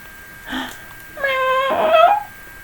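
A cat yowls as a sound effect during a children's story reading, a short mew followed by a longer, rising wail, loud and close with nobody speaking.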